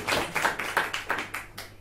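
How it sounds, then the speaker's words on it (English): A small audience at Dolans pub in Limerick claps during a limericks competition final, a short burst of scattered, rhythmic hand claps heard fairly close. "give a round of applause for Dolans"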